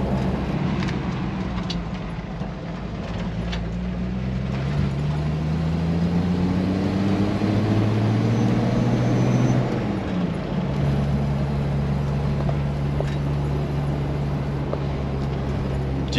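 A 1994 Jeep Wrangler YJ SE climbs a small local hill in third gear at about 1500 rpm, its engine giving a steady low drone that rises in pitch and then settles into a constant hum.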